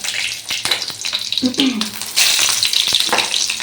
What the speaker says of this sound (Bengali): ঠান্ডার মধ্যে একটু রাঁধুনি ফোড়ন দেবো